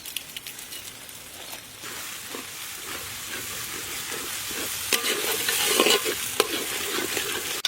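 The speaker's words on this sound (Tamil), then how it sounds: "தக்காளி நல்லா வதங்கிட்டான்." Tomatoes fried with ginger and garlic for a large pot of curry-leaf chicken curry, stirred continuously: close scraping and a hissing sizzle that build slightly louder toward the end, no talk.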